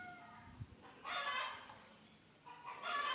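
A few bursts of native country chicken clucking and squawking while eating rice bran, moderately faint, separated by short quiet gaps.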